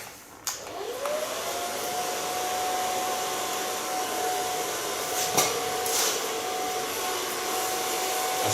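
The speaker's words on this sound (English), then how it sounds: "And start blow drying in the neckline." A handheld hair dryer blows steadily as freshly bleached hair is dried at the neckline with a medium brush, a continuous close whooshing hum with a few brief clicks and knocks.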